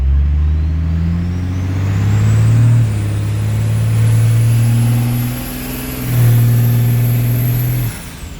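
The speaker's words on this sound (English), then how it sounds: "porting that head and exhaust made this sound so much better" Truck with a 12 valve Cummins diesel, ported head and exhaust, revving up in long loud pulls with a deep rumbling drone, easing off briefly in the middle before climbing again, close and alone.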